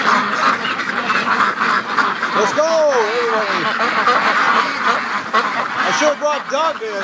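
Free-range ducks quack in a busy flock, calls overlapping continuously at close range outdoors by an icy lake and creek, with a voice calling to them over the noise.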